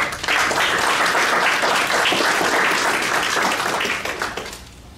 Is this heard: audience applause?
yes